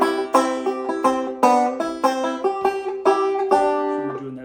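Old-time banjo from South Carolina, played in the Mississippi Sawyer style with a pinch on the first and second strings after a brush stroke; bright plucked notes in a quick, steady rhythm, close and clear, no talking.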